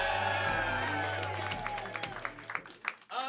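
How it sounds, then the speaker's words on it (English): A comedy show audience at First Coast Comedy's main event cheers and applauds loudly, a dense roar of clapping and whoops that gradually thins into scattered claps and fading cheers. "crowd goes wild!"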